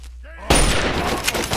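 Gunfire in the video game Fallout 3, a sudden loud blast followed by a burst of crackling shots and debris noise after a brief quieter moment.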